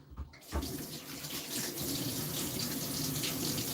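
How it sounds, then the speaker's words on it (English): A kitchen tap turned on for hand washing after filleting fish: a brief clunk, then a steady close rush of running water splashing into a sink, continuous and fairly loud. "Wash my hands."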